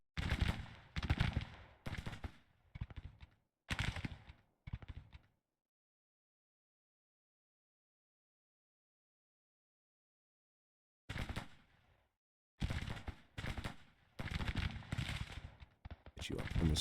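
Rapid rattling bursts of battlefield gunfire from the Grand Tactician Civil War strategy game, several clusters of crackling shots separated by a long silent gap.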